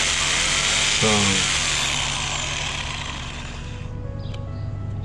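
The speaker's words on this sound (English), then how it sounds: "Just go nice and easy with the jigsaw." A jigsaw cutting wood molding for a coped joint, buzzing loudly and continuously at close range before easing slightly, with a brief spoken word near the start.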